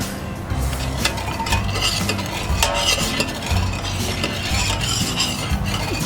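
A spoon stirs sugar into warm homemade ginger wine in a pot, with continuous close scraping and clinking strokes in a quick, uneven rhythm, and no talking over it.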